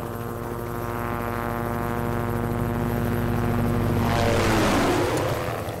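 Helicopter in the Project Zomboid video game flying overhead, a loud steady drone with rhythmic rotor pulsing that swells near the end as it passes close.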